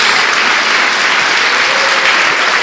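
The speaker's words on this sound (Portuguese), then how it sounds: "Dê uma salva de palmas a Jesus" A church congregation claps together during worship, a dense and steady roar of applause that stays close and loud for the whole stretch, with no voices standing out above it.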